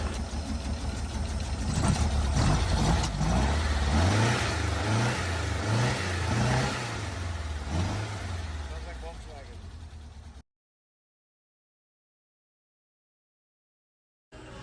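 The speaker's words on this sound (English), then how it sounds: "This is 20 seconds of how the car ran before the engine was taken apart" A car engine runs and revs with a rough, uneven rhythm for about ten seconds, then cuts to silence.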